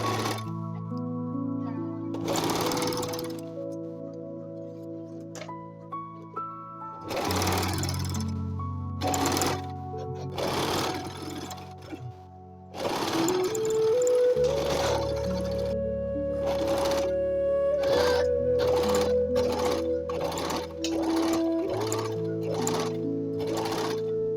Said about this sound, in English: Sew a gathering stitch along the opposite edge.